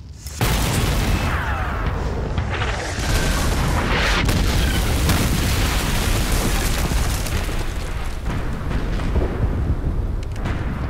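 Heavy cannon fire booming repeatedly, dense overlapping blasts and rumbling explosions filling the whole stretch, loud and continuous.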